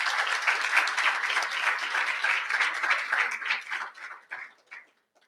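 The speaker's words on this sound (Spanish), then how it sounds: "Un aplauso, por favor, para ella." An audience claps warmly at a Spanish-language book presentation about a dictionary of Mexican Spanish; the dense applause holds steady, then thins to a few scattered claps and fades out.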